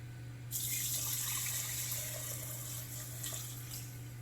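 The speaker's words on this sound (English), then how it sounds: "So we're going to strain it again. Back into the bowl." Elderberry syrup pours through a strainer into a bowl, a soft, steady liquid splashing and trickling that starts abruptly and runs continuously, fairly quiet and close with no talk.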